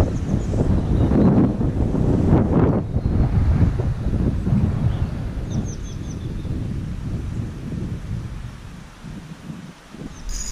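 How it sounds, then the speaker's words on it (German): Strong wind buffets the microphone outdoors while someone is fishing, producing heavy, continuous low rumbling gusts that ease slightly toward the end. "Der Wind bläst wieder ganz stark."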